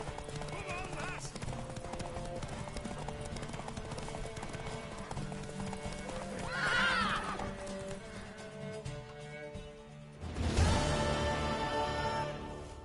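In The Witcher: Wild Hunt, a horse's hooves clip-clop steadily over a busy game soundtrack, with a whinny rising partway through and a louder burst near the end; voices are heard throughout.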